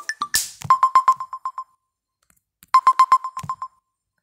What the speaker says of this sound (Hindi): सॉरी फ्रेंड्स बीच में फोन आ गया था।